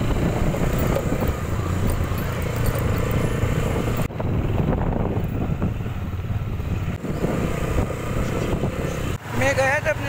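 Motorcycle ride with a continuous low engine drone and wind rumble, close and steady throughout, while someone talks over it and the noise briefly drops out near the end.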